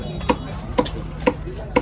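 A knife chops kourali fish at the Kasimedu fish market, four sharp evenly spaced thuds close by against a faint background hum.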